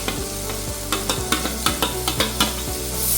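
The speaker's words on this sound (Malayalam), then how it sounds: "ഇനി നമുക്ക് ക്യാരറ്റ് സവാള ഇട്ട് കൊടുക്കാം" Carrot and onion sautéing in a pan for mushroom soup: loud close sizzling with a rapid series of regular spatula scrapes and stirring knocks, no voices.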